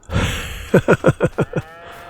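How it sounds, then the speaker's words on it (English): Several cows on a farm moo in a quick run of six short, rhythmic calls, fairly close and clear, after a brief stretch of low rumbling background noise. "The cows are doing their thing."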